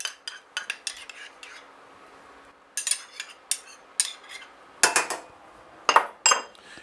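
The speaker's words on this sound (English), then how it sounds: "And you want to stir it a little bit. Want to stir it and mix it all in there." Spoon stirring sour cream into a beef casserole in a dish, a run of sharp clinks and scrapes against the dish in uneven bursts with short quiet gaps.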